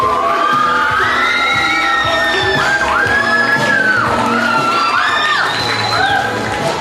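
A film premiere crowd cheers, whoops and shouts loudly and continuously, with overlapping high-pitched yells and calls close at hand.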